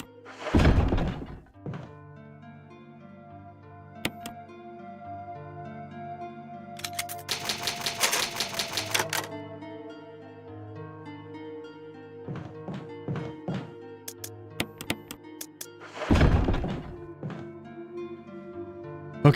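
Typewriter saving with an ink ribbon in Resident Evil: a dense burst of rapid mechanical key clacks in the middle, with heavy thunks near the start and end, over soft tonal background music.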